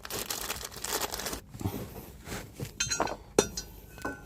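Metal bolts clink and rattle as they are picked up and handled during truck parts installation, producing faint scattered clinks and rustling handling noises with a sharper metallic tap near the end.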